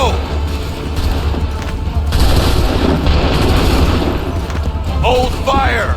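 Soldiers firing muskets on command in the Assassin's Creed 3 video game, with dense overlapping gunfire and booms at high volume and a shouted voice near the end.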